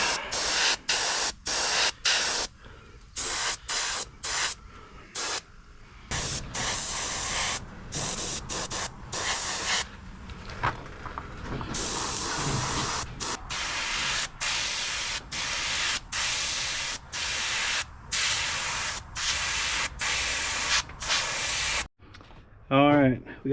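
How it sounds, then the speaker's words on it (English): An airbrush or spray gun coats a wooden antique-style bass lure replica with red paint, giving a loud, close, steady hiss broken by many brief stops and restarts over about twenty seconds. "I'm gonna go ahead and just paint it all red and do a red bodied one while I've got the red paint."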